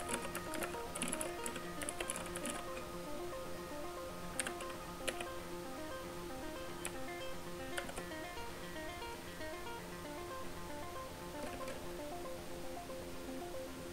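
Soft, scattered clicks of a computer keyboard as someone types code for a Discord bot in Ruby, quiet and irregular over a steady background hum.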